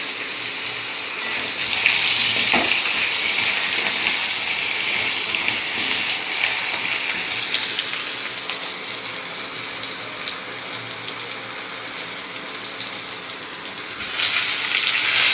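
Thick-cut potatoes fry in hot oil in a pan, a loud continuous hiss and crackle that runs steadily without a break and swells again near the end.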